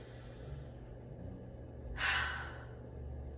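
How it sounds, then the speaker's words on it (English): A single deep inhalation of breath rises around the middle, a soft breathy rush that swells and fades over a low steady background hum, with no speech. "Let's do one more deep breath in."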